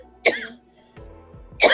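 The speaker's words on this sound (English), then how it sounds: "sorry about the cough" A person coughs twice, sharp and close, with a brief pause between the harsh bursts and no speech.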